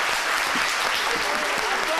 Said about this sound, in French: Ils sont là, on va les applaudir très fort.